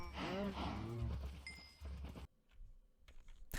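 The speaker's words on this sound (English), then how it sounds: "we lured over a few cows" Cows mooing in the block-building game Minecraft: a loud, close, drawn-out bovine moo with wavering pitch, followed by a softer second call and quieter farmyard sounds after a short gap, no speech.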